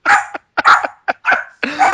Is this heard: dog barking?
yes